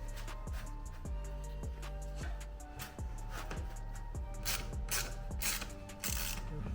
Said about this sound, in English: we're just tightening up the mounting bolts now